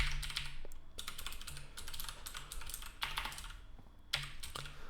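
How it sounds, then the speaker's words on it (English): Steady stream of key clicks from a computer keyboard as a web address is typed into Python code, close and clear with short pauses between bursts and no talking. "I'll just type the URL manually again."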